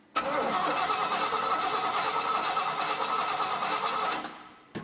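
A 1968 GMC truck engine cranking over without starting, a loud continuous churning whir of about four seconds that cuts off abruptly, then a brief click.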